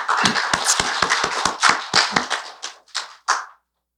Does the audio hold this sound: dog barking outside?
no